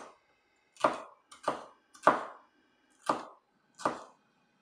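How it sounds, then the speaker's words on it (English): Knife strokes cutting a bell pepper into julienne strips on a cutting board, five or six sharp chops spaced irregularly about a second apart, close and clear with silence between. "Now simply julienne the pepper as thick or as thin as you'd like."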